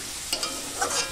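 Potatoes frying in a pan, a steady hiss of sizzling oil broken by a few quick scraping stirs of a spatula.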